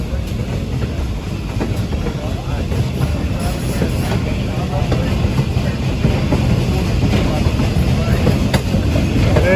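The N&W 611 steam locomotive runs around its train at Paradise on the Strasburg Railroad, a continuous loud rumble with rolling wheel clatter and hiss, growing slightly stronger with no voices.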